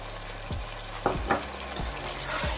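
Chicken frying in a pan while it is mixed after a splash of vinegar, a steady sizzle broken by several sharp scraping stir strokes, close and alone with no talk.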